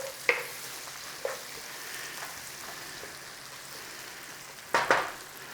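Onions and hing sizzle in a hot pan on a home stove while being stirred, a steady soft frying hiss broken by a few sharp scraping stirs.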